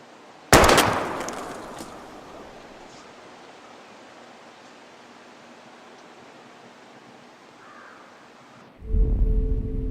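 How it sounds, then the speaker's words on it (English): Gunfire from shooting bottles in Life Is Strange: one sharp, loud shot early on, followed by a long fading ring and ambient hiss, then a second heavy burst near the end. "We're gonna shoot all these bottles without wasting a single bullet."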